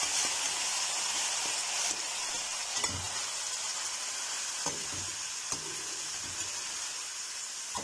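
Vermicelli (sawaiyan) frying in melted desi ghee, giving a steady bright sizzle and hiss with occasional stirring scrapes and soft clinks of a utensil against the pan, close and continuous without talk.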